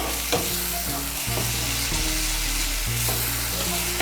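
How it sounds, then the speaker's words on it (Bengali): Chili spice paste frying in hot oil and stirred into cauliflower curry, a loud, close, constant sizzle with the scrape of a spatula against the pan at intervals. "এই পেস্টটা এর মধ্যে দিয়ে দিচ্ছি। মিশিয়ে নেব ভালো করে তেলের সঙ্গে মশলাটাকে"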